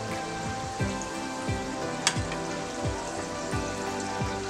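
Leftover rice snack frying crisp in a pan over medium heat, a steady close sizzle and crackle with scattered pops, no talking.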